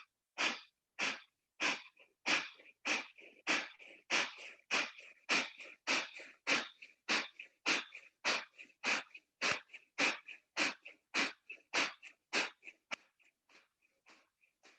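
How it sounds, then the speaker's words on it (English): Rapid, forceful nasal exhalations pumped out in a steady, even rhythm during Kapalabhati yoga breathing, about two bursts per second for roughly thirty rounds, close and clear, slowing and softening slightly toward the end, with no talking. "36 rounds of Kapalabhati here"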